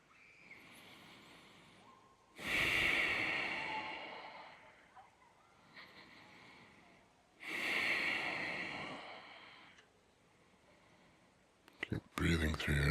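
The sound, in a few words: breathing through the nose during stretch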